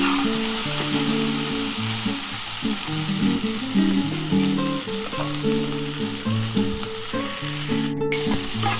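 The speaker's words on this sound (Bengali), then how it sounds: "উচ্ছের সাথে পেঁয়াজটা দেখো খুব ভালোভাবে ভাজা হয়ে গেছে।" Bitter gourd and onion fry steadily in a pan, a continuous close sizzle with light stirring, no talking.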